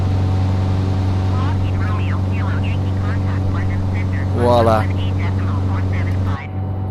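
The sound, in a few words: Lockheed aircraft engine during climb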